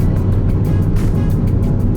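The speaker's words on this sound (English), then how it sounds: "currently in fifth gear, just kind of cruising up this hill" A Ford Focus ST cruises uphill in fifth gear with a loud, close, steady engine drone mixed with road and wind noise, and no talking.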